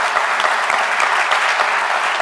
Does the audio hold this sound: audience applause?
yes